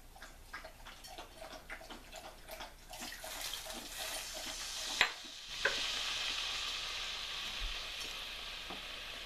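Shallots, garlic, white wine, cream, Parmesan and spinach go into a skillet, with rhythmic stirring clicks over a soft sizzle, then a splash and a louder, steady hiss of simmering liquid up close.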